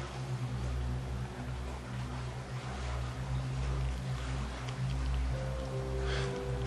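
Water flowing beneath a bridge with a resonant echo, a steady rushing wash with a low droning hum, continuous and moderately close, no voices.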